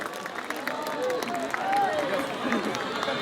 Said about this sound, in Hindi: एक बार जोरदार तालियों के साथ आमंत्रित करें